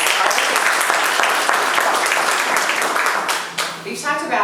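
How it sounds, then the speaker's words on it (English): A forum audience at a community healthcare and wellness event claps in dense, loud, sustained applause that begins to thin toward the end, with voices mixed in. "So give them a round of applause as we get started."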